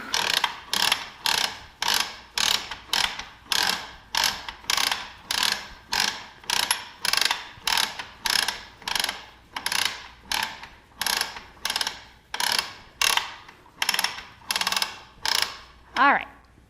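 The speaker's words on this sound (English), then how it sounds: "we will roll our backing onto this bar here" A quilting frame bar clicks loudly as the backing is rolled onto it. Steady ratchet bursts repeat at about one per second and are heard alone, then stop with a final clunk.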